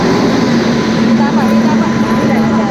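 A passenger train pulls into a railway station with a steady, loud rumble and a constant low mechanical hum, and indistinct voices may be mixed in.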